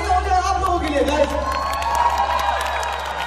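An Indian Idol audience in Calgary, Canada roars with cheering, whoops and some clapping, a dense, steady crowd noise with a voice audible in the mix.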